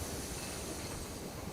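A video-game train rolls along its rails in a steady, hissing rumble, continuous and moderately quiet with no voices.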